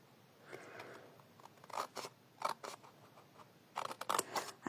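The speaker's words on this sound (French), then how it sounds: "je coupe comme ça" Scissors snip through paper while a box with a closure is being made, a run of crisp close cuts in uneven bursts with short pauses between them and a louder cluster near the end.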